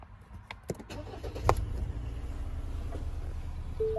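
A Ford Ranger Raptor 2.0 EcoBlue double cab engine started by push button: a few clicks and a brief crank burst, then a steady low idle rumble, close and fairly quiet.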